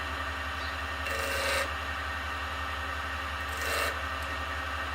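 Wood lathe spinning at 1400 RPM with a steady low hum while lines are marked on the turning piece, two brief scratchy rasps of a pencil against the spinning wood rising over the drone, close and without talk.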